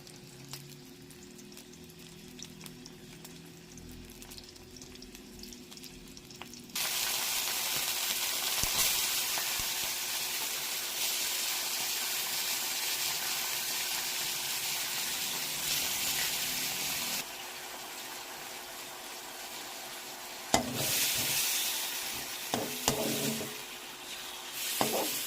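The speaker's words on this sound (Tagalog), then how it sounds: "Prituin na muna natin itong mga beef." Beef pieces frying in a pan for bistek tagalog, a steady broadband sizzle that starts abruptly after a quiet stretch and carries on loudly, easing somewhat later, with a few clinks of stirring near the end.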